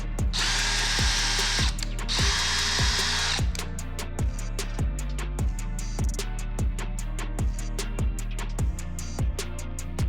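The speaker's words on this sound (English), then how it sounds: "you're gonna do a pre-drill here" A power drill pre-drills a hole in wood for homemade race ramps, starting with two long high-pitched bursts, then running in a string of short repeated pulses with clicking trigger stops between them.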